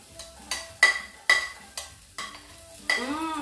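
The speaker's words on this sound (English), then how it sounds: "Okay, so we just saute the onions and the garlic." Red onions and garlic sautéing in a pan, heard as several distinct scraping stirs with brief sizzling bursts, close and fairly quiet with no talking.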